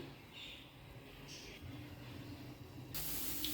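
Garlic frying in oil on a non-stick tawa, a steady close sizzle and hiss that grows louder and brighter toward the end.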